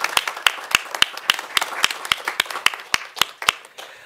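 Audience applause at a Harvard Asia Center event on Tibetan Buddhism, heard as sparse, distinct individual hand claps in an uneven rhythm, fairly close and moderately loud, with no one speaking.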